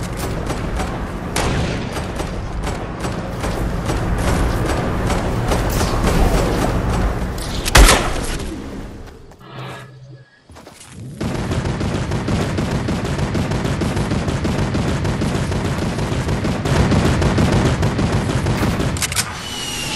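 Rapid gunfire bursts from a Fortnite squad battle, near and loud, running almost continuously with a brief lull partway before the shooting resumes, with no talk over it.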